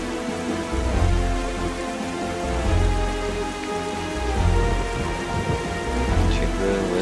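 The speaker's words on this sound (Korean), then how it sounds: "지금 왼쪽에 거대 폭풍이 하나 보이고 있습니다." Steady rain pours with low rumbling thunder throughout a storm at sea in the video game Zelda: The Wind Waker, a continuous broad wash with swelling rolls, no voices.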